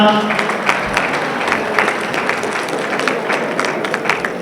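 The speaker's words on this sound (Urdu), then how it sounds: "ایک دفعہ زوردار تالی ہونی چاہیے محمد ذیشان" Audience applause at the Layyians Welfare Society annual dinner at Arid Agriculture University: a dense, steady wash of many hands clapping close by, sustained throughout with a faint voice mixed in.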